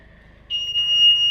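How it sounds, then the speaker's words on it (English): A McLaren 720S sounds a steady high-pitched electronic beep because its bonnet is open; a quiet low hum comes first, then a sustained tonal beep begins and holds, close and clear. "The reason why it's beeping is because the bonnet's open"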